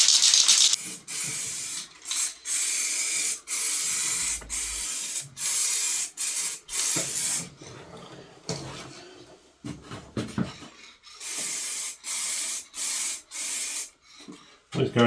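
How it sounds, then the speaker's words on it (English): Clear acrylic lacquer sprayed from an aerosol can onto Volvo 240 lights, coming as repeated close, loud hissing bursts of about a second each, separated by short gaps, with no talking. "So, clear acrylic lacquer. Give it a quick light coat, like when we started doing these."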